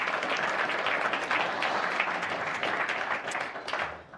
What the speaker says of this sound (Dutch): En er mag een applaus komen.